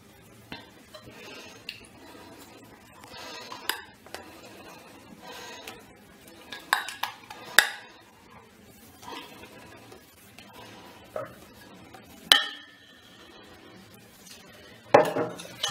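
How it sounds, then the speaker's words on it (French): A utensil folds whipped cream into white chocolate cake batter for a Christmas log, giving soft scraping and stirring with occasional light clinks against a bowl, close and quiet. "Et je viens mélanger les deux délicatement"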